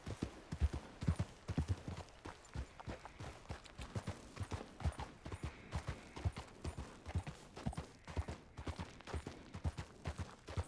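Horse hooves clip-clop in a quick, steady trotting rhythm in a Red Dead Redemption 2 game scene, distinct and fairly close throughout, with no talking.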